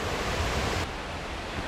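Chelavara waterfall in Coorg roaring nearby: a broad, steady rush of falling water filling the whole clip, loud and continuous, dropping slightly in level partway through, with no voices.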